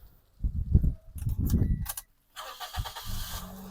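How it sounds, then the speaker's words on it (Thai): A Toyota Altis 1.6G is cranked and starts on the first try: a short burst of starter churning, a brief pause, then the engine catches and settles into a smooth, steady idle close to the microphone. "สตาร์ททีเดียวติดนะครับ"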